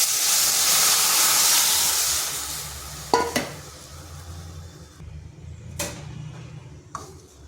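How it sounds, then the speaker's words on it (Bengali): Dal tipped into a pan of fried onion and garlic gives a loud, broad sizzle for a few seconds, which fades into quieter frying with a few sharp clinks and scrapes of stirring. "পেঁয়াজ রসুনটা ভেজে নিয়েছি যাতে পেঁয়াজের আর রসুনের কাঁচা গন্ধটা চলে যায়। এরপর দিয়ে দিচ্ছি ডালটা।"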